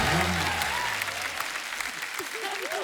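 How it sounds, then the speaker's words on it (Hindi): A television comedy-show studio audience claps loudly and steadily, and someone speaks over the applause throughout. "जोरदार तालियां यार"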